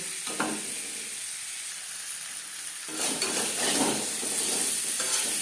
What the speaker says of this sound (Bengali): লবণ হলুদ দিয়ে আলু হালকা করে ভেজে নেব